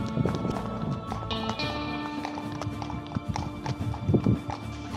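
Horse hooves clip-clop steadily on a hard town street near Granada, Spain, a brisk repeated rhythm with faint background murmur and traffic noise.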